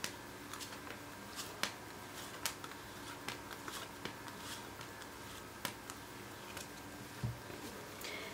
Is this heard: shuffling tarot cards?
yes